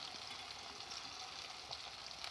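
Tomato fries in hot oil with onions, a steady bright sizzle with soft crackling, close and continuous.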